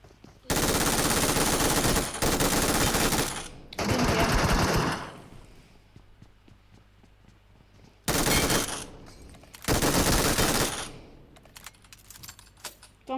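Bursts of rapid automatic gunfire from a 2v4 duo squad match in a shooter video game, several loud sustained volleys separated by quieter gaps, with no talk over them.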